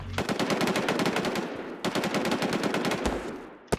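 Rapid automatic gunfire from the NewZ battle royale game, dense bursts of machine-gun shots rattling on almost without pause, with a short break and a final pair of sharp shots.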